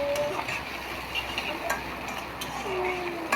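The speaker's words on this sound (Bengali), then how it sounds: "পেঁয়াজ ভালোভাবে ভেজে নেব।" Onions and chilies frying in a pan for a small-fish dopiaza, a soft continuous sizzle with a few light ticks of stirring, close and moderately quiet.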